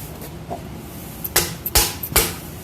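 A few sharp metallic taps of a hammer on the valves of a 1977 Ford 302 engine, three fairly loud knocks spaced about half a second apart, following a quiet stretch with faint background noise.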